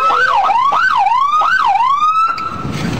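A police car siren wails loud and close, sweeping up and down in about three quick repeated cycles before holding a steadier rising tone, with nothing else heard.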